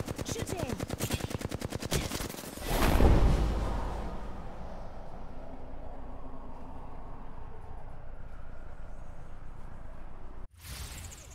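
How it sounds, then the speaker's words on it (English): Rapid automatic gunfire rattles steadily through a video game shootout, swelling into a loud blast and whoosh, then fading into a lingering rumble before a final sharp burst. "I'm spotted. Taking fire. Shooting."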